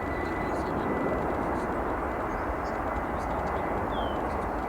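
An American Airlines Boeing 787-8 jet arriving to land on runway 10 Center at Chicago O'Hare, heard as a steady, loud broadband engine roar that holds constant throughout.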